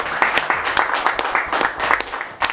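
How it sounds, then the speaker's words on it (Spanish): Audience applause at a Mexican sonidero expo in New York, a crowd clapping with uneven bursts across the whole stretch, moderately loud, with some voices mixed into the noise. "Un aplauso a él"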